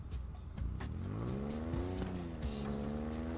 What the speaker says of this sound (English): I just got to listen to that just easing the foot on the gas there